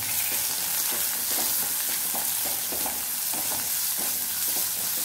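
Chopped onion and carrot fry in a pan for khara bath, a steady close sizzle broken by rhythmic scraping of a spoon stirring the vegetables.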